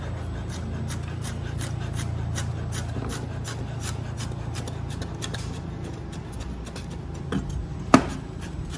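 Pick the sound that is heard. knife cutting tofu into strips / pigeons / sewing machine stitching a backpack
knife cutting tofu into strips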